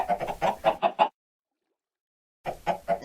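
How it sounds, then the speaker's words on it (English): Clucking chickens in a video game auto chicken farm, a cluster of short, loud cackles in quick succession, then a gap of silence before another burst of rhythmic clucks. "How do I get raw chicken? Oh, from that chicken gun."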